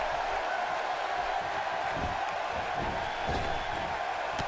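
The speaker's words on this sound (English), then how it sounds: "The crowd comes alive here in Philadelphia" Crowd in a Philadelphia arena in WWE 2K18 roaring and cheering steadily, a broad, continuous wash of applause and shouts, moderately loud with no breaks.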